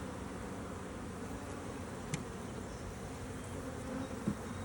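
Honey bees hum in a constant, faint, even drone around a hive opened for the first time in spring, with a few light clicks from handling.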